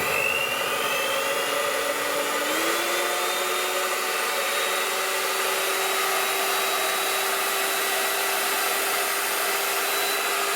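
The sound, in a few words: blender mixing protein pancake batter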